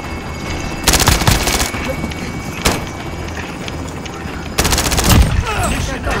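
Gunfire in Warzone with several loud, close bursts of rapid automatic shots separated by short pauses. Voices talk faintly underneath.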